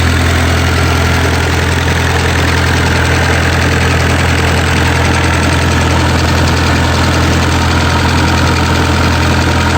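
A Kubota V2203 diesel engine in a Bobcat skid steer runs steadily at idle, a loud, close, continuous rumbling drone with mechanical clatter throughout.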